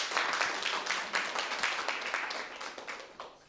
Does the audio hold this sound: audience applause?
yes